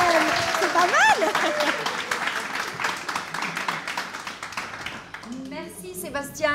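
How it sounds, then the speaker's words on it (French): Television studio audience applauding on a French-language dating show from Réunion, sustained clapping that fades toward the end, with voices speaking and exclaiming over it. "applaudissements quand même"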